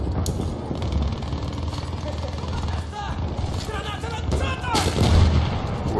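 Heavy booming artillery fire from an artillery vehicle in the video game Battlefield 1, loud blasts over constant battlefield rumble with people talking during the firing.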